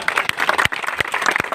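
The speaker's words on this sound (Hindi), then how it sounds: "जोरदार ताली हो जा।" An audience claps loudly at a spoken gathering, a dense close patter of many hands with a few sharp individual claps standing out.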